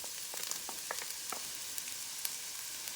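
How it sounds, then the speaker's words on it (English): Garlic sauteing in a hot Power XL cooker, a steady, moderately quiet sizzle sprinkled with small irregular crackles and pops, with no voices. "I'm gonna put my garlic in there. You hear the sizzle."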